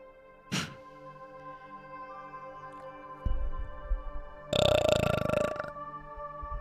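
A loud, drawn-out burp of about a second, with a brief throaty gulp earlier and a low thump before it, over a quiet steady hum.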